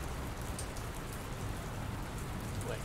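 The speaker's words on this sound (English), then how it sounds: "I don't think it's supposed to still be raining" Steady rain falls continuously in a video game, a dense, even hiss of drops with no breaks or thunder and no voices over it.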